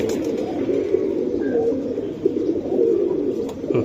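Soft, low pigeon coos murmur continuously and fairly close, overlapping one another in a steady flock chorus with no talking.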